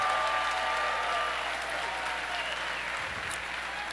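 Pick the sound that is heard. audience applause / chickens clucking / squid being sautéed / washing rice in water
audience applause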